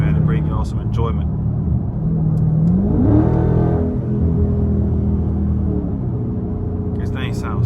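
Straight-piped Dodge Charger Scat Pack cruising on a highway, its loud, steady engine drone and exhaust rumble rising into a brief rev mid-clip, heard from inside the car with someone talking over it.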